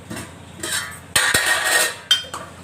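Freshly washed dishes and cutlery clinking together in a home kitchen: a few sharp clinks and clatters, close by, over a light background hiss, with no talking.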